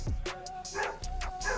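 A neighbor's dog barks in short, loud yaps several times in quick succession from nearby, with a brief whimpering tone at the start.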